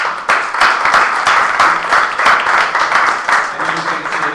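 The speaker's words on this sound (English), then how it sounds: "Let's give these guys a round of applause." Audience applause for volunteers at a ComedySportz improv workshop, dense steady clapping from a small crowd lasting the whole few seconds, close and fairly loud.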